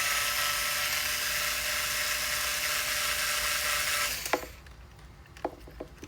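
A power drill with a PH1 bit driving screws, a loud steady whirring hum that runs for about four seconds then cuts off, followed by a few faint clicks and taps.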